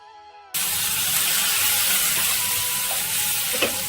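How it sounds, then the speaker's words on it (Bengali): After a brief quiet start, a loud, constant sizzle erupts as ground mustard spice paste fries in hot oil, with faint stirring scrapes near the end. "বেটে রাখা সর্ষে দিয়ে আমরা আরও তিন থেকে চার মিনিট ভেজে নেব"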